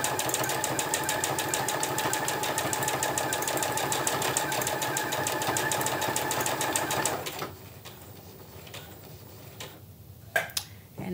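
A sewing machine stitches a buttonhole on a tote bag, a fast, steady mechanical whir with rapid ticking for about seven seconds, then it stops, leaving a few faint clicks and handling sounds.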